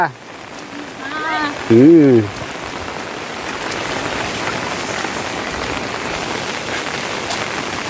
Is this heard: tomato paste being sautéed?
no